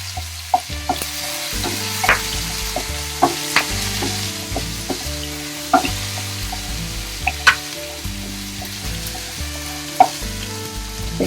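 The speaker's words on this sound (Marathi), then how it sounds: "तेल गरम झालेलं आहे. आता आपण जी पेस्ट करून घेतली होती ती टाकायची त्यात." A ginger, garlic, coriander and mint paste hits hot oil for a Maharashtrian dry chicken dish, giving a close, steady sizzle. Soft periodic clicks of a spoon punctuate it over a low, steady tonal hum, with no voices.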